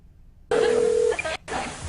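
A single touch-tone phone key beep sounds clearly, followed by a short burst of line noise as a call is placed to a movie phone line.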